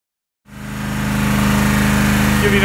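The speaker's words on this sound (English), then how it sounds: "And then we're gonna get the mower." Lawn mower engine starting up after silence, then running loud and close with a steady pulsing putter that settles into a continuous drone in a large residential yard.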